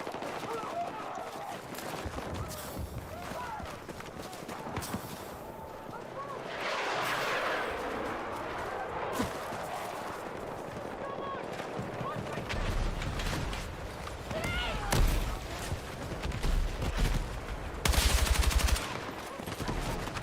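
Gunfire rattles through a Battlefield 6 match, with repeated shots and heavy battle noise in a busy, chaotic mix while a player talks over it.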